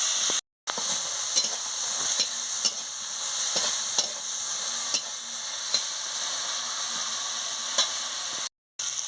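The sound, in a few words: cumin, chili and turmeric spice paste sautéing and stirred in pan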